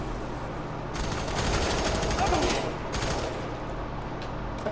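Bursts of rapid automatic gunfire in the video game F.E.A.R. 3 rattle in clustered volleys at moderate loudness, with a short lull between them.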